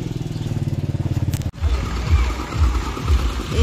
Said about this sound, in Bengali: তো এই যে এখন আমরা বাইকে উঠবো।